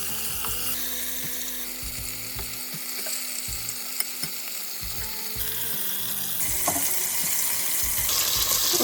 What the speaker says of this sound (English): so you just let that brown on both sides